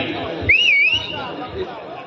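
A single shrill rising-and-falling whistle cuts through the chatter of an outdoor village folk-culture show audience, loud and close for about half a second, with crowd murmur and voices continuing around it.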